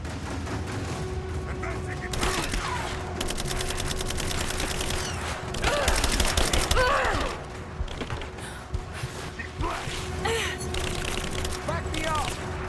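Gunfire in the action game Rise of the Tomb Raider rattles in bursts and scattered volleys over a background drone, with characters talking over the shooting.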